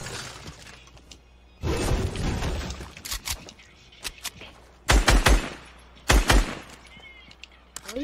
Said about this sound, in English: Why are you shooting at me already